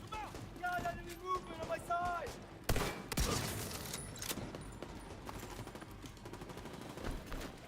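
Gunfire in The Division 2 as a boss is shot: a loud burst of several sharp reports around the three-second mark, then fainter scattered shots under ongoing game sounds and music tones.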